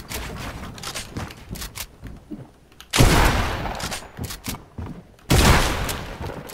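Assault rifle fire in a video game comes in bursts, with loud dense volleys starting around the middle and again near the end, following scattered lighter shots, up close with no talk.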